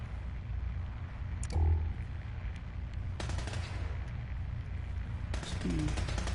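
Fallout 4 combat as a synth fights with guns, bursts of synthetic gunfire at moderate distance, sharp cracks scattered over a constant low ambient rumble, with a person talking briefly.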